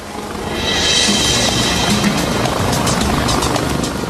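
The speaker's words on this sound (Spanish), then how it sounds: "Los helicópteros se agolpaban peligrosamente en los límites." A helicopter roars steadily overhead, its rotor chop and engine whine loud and sustained, swelling slightly as it passes close.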